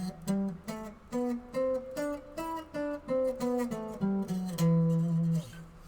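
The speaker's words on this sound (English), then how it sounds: "And then your Aeolian, or what is more commonly known as just the minor scale, it's much more sad sounding, sounds like this." A minor (Aeolian) scale played note by note as a demonstration, a dozen or so distinct pitched tones in a steady rhythm ending on a longer held note, close and clear with no talking over it.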